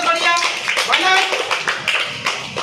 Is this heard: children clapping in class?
yes